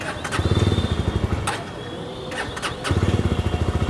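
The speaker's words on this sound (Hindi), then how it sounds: "तो पहले सुनते हैं एग्जॉस्ट नोट जावा 42 FJ का।" A Jawa 42 FJ motorcycle engine starts and settles into a steady, thumping exhaust note. The loud, close pulsing rhythm dips briefly midway and then picks up again with no talk over it.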